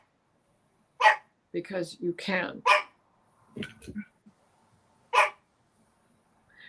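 Grizzly the dog gives several sharp, close barks spaced a second or two apart, mixed in with a short spoken phrase from a person nearby.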